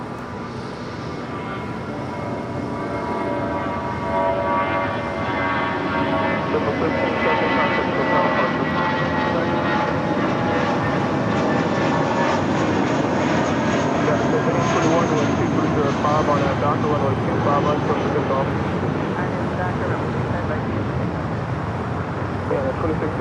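Airplanes at LAX airport produce a sustained, loud jet roar that builds and holds across the whole stretch, with radio and commentary voices talking over it.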